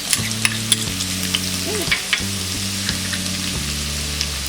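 Green chilies, garlic and spring onions sizzling in hot oil, a steady close hiss with a few sharp spitting pops over a low background tone, no one speaking.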